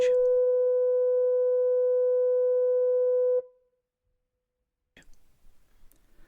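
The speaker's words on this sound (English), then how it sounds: "superseded by a higher-pitched electronic signal with a much reduced audible range" A steady electronic lighthouse fog signal at Portland Bill sounds loudly for about three seconds, then cuts off abruptly, leaving silence followed by faint scattered noises.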